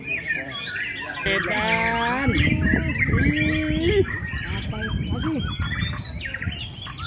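Songs of white-rumped shama (murai batu) at a bird-singing contest with many caged birds, delivered as dense, varied whistled phrases over a continuous crowd murmur and talk.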